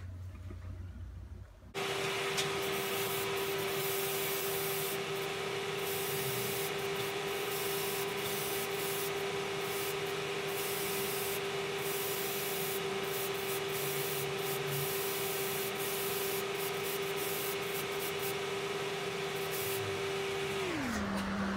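Spray gun applying Cerakote coating over woodland camo stencils, a steady loud hiss running nearly continuously for about twenty seconds with a faint tonal whine from the compressor or gun, no talking.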